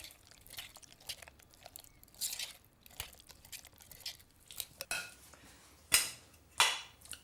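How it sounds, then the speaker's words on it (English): Drained canned sweet corn is stirred in a bowl, giving soft irregular wet scrapes and light clinks of a spoon against the dish, close and quiet. "just give it a bit of a stir"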